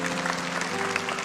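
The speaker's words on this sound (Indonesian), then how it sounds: "Kasih tepuk tangan untuk Tuhan." A church congregation claps during a sermon, a short burst of dense, steady handclapping from many people, fairly loud and unaccompanied by speech.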